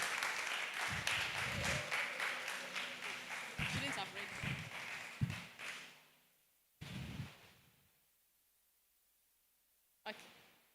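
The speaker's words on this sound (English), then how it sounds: "Shall we give her a round of applause?" An audience at a workers' guild week event gives a speaker a round of applause, a burst of clapping that fades out, then brief further claps and a short voice.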